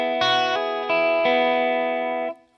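Electric guitar plays the D phrase from the verse of a song, a few sustained, ringing chords with effects and slight distortion, struck in three strums and left to ring alone before cutting off.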